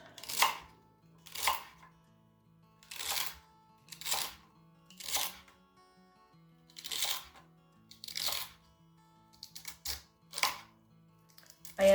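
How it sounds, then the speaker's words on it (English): Knife chopping washed celery stalks on a cutting board in a home kitchen, about ten crisp cuts at a slow, steady pace, fairly quiet and close, with no talking over it. "I cut up and washed some celery. So I'm just going to chop up."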